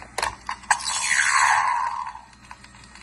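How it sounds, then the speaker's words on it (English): A stun blaster sound from a vintage Star Wars stormtrooper toy: a few short clicks, then a bright electronic zap that swells and sweeps downward over about a second before fading, played close and alone. "Here's a stormtrooper's stun blaster."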